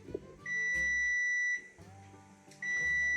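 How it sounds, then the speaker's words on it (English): A kitchen oven timer goes off as a tray of baked Linzer Stangerl cookies finishes, giving two long, steady electronic beeps separated by a short pause, clear and fairly close with faint room sounds beneath. "the oven timer went off"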